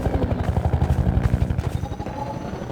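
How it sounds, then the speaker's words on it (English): Helicopter in the video game Half-Life 2: Episode Two, a steady pulsing rotor thump with rapid rhythmic beats and engine clatter, loud and close, fading slightly toward the end. "Since you brought that chopper in on your tail, you want to maybe help us take it down?"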